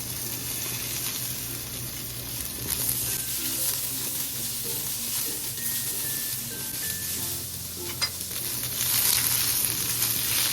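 Garlic and onion sizzling in oil in a pan for a fish dish, a steady close frying hiss with occasional stirring scrapes and a faint kitchen hum underneath, no voices.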